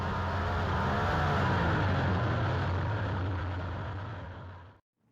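A race car at a speedway, coming back around for another lap on cold tires after spinning out, roars loud and steady before cutting off abruptly near the end.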